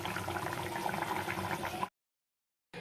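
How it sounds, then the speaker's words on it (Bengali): A pot of fish curry bubbles at a steady simmer, a close, continuous burbling that cuts off abruptly into silence before returning briefly at the end. "মাছের ঝোলটা ফুটছে, মাছের ঝোল হয়ে গেছে, এখন নামিয়ে ফেলবো।"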